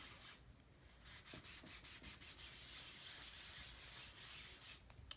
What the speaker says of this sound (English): take a baby wipe, gently rub, get all that paste off of there